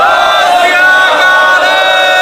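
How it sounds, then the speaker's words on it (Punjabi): A large crowd at a Sikh political rally roars the jaikara "Bole So Nihal" in unison, a loud, sustained chorus of many raised voices filling the whole moment. "ਹੱਥ ਖੜੇ ਕਰਕੇ ਇੱਕ ਜਕਾਰਾ ਛੱਡੋ ਬੋਲੇ ਸੋ ਨਿਹਾਲ"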